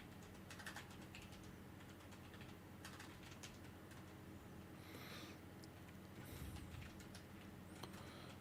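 Soft keystrokes on a computer keyboard during a Chelsea vs Leeds United watchalong stream, arriving in short irregular bursts of clicks at a steady low level with no voices.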